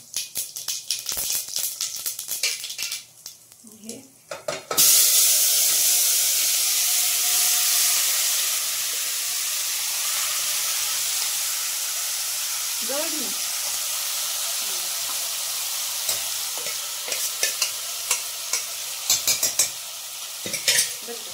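A little cumin dropped into hot oil for biryani sets off a sharp, loud sizzle that hisses on steadily. Earlier there are clinks and scrapes of a utensil, and occasional faint voices come through near the end.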